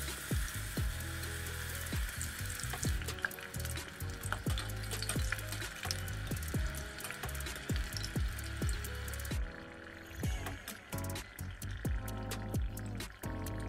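Lumpiang Shanghai frying in hot oil, a steady close crackling sizzle that runs throughout with occasional bubbling bursts and no voices.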